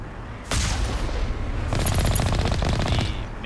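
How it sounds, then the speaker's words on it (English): The Mako tank's cannon fires in Mass Effect: a sharp blast near half a second, then a rapid rattling burst of shots, loud and close, with no talking. "a direct hit does more damage with the cannon than a splash"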